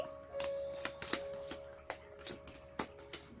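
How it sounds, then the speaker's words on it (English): A deck of tarot cards being cut and shuffled by hand, giving a run of crisp, close riffles and snaps at an uneven rhythm, with a faint steady hum underneath. "let's cut the deck"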